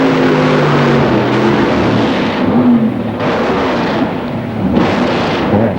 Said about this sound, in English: Pro Mod with Glenn Dumont with his 70s Camaro, 532 cubic inches of big block Chevy